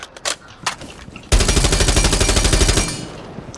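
Automatic rifle fire at the Rainbow Six shooting range in a video game: a few separate single shots, then one loud, close, continuous rapid burst lasting over a second before it cuts off.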